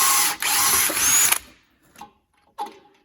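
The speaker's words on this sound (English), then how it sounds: "it is a new drill bit, so hopefully it will go through okay" A power drill with a new bit whines loudly, grinding through the soft metal of a Land Rover Defender TD5 rear exhaust pipe for over a second, then stops, followed by two brief clanks.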